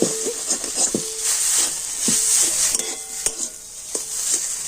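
A spoon stirs a vegetable filling in a pan, making repeated close scraping knocks against the metal over a soft sizzle, in an even rhythm and without talk.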